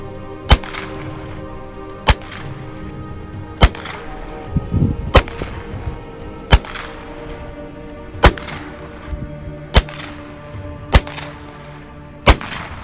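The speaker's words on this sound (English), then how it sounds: "As we passed that shotgun around on that sunny afternoon" A shotgun fired outdoors in the backcountry on a sunny afternoon: nine sharp, loud single blasts at a steady pace of about one every one and a half seconds, each trailing off into a short echo.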